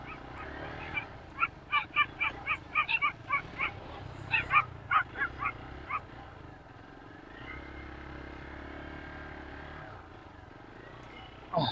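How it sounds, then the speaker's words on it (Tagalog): Dogs bark in quick, sharp bursts along a trail, repeated yaps close by over an idling motor hum, then falling quiet as the engine drones on and a voice speaks. "Mga aso."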